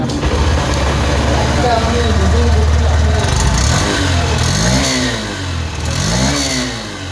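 A Honda CD 110 Dream DLX motorcycle engine runs with a steady, mid-pitched hum and brief revs, close by and underneath continuous talking.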